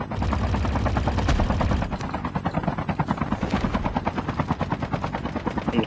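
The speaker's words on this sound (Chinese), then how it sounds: "下面直升机。" Helicopter in the mobile shooter game Call of Duty Mobile: a rapid, loud rotor chop with a steady pulsing rhythm, carried over a dense burst of game noise.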